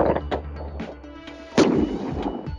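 A 12-shot firework sends out one sharp, loud boom partway through, after murmuring voices and scattered lighter pops.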